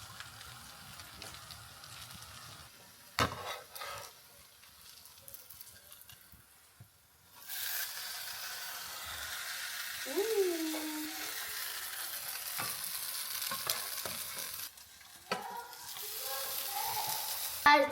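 Cinnamon French toast frying in a pan gives off a steady close sizzle, quieter in the first stretch and then a louder, broader hiss, with a few clinks and scrapes along the way and no talking.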